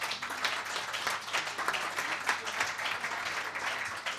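A conference audience applauds at an inauguration session, giving a steady, even wash of many hands clapping at moderate distance, sustained without breaks.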